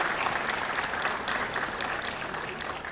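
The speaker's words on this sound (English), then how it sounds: "deserve a huge round of applause" Sustained applause from a large audience at a corporate event in Hyderabad, held at ICICI Bank Towers in Nanakramguda: dense, even clapping that stays steady and fairly loud for the whole stretch, with no voices over it.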